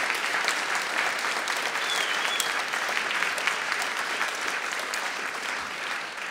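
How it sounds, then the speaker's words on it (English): A live music-show audience claps for the sponsors in a full, continuous burst of applause that holds steady for several seconds with no talking over it. "Please give them all a big round of applause."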